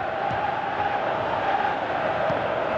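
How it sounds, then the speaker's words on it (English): Stadium crowd noise from a Pro Evolution Soccer 2018 football match, a steady broad roar of murmuring and cheering fans that holds at an even level throughout, with no clear clapping standing out. "Crowd appreciates good football all round there"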